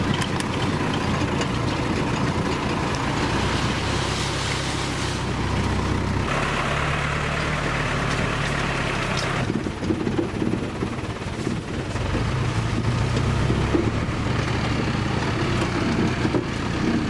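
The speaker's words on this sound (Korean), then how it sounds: "오랜 시간 동안 덜컹거리는 차를 타고서" A car travelling for a long stretch along an unpaved road through a guarded rebel-area checkpoint zone near Mount Pinatubo, Philippines; a steady, loud engine drone with continuous rumbling and rattling throughout, no talk.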